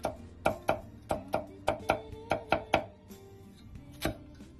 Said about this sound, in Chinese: 再来准备适量的生姜，切成姜片